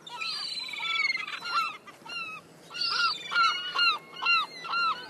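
Seagulls call repeatedly at close range by the shore, loud, overlapping squawks and honking cries in quick bursts, with no voices.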